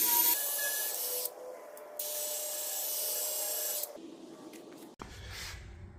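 Steel-It stainless steel coating sprayed from a can onto a metal farm gate outdoors, two steady hissing bursts with a short break between, then a faint rustle and a clunk.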